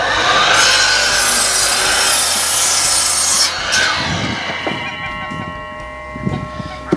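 A handsaw rasps through a rough-sawn sawmill lumber board held in a jig, trimming it to framing stud length; steady loud strokes fill the first few seconds, then the cut finishes into scattered knocks and scrapes.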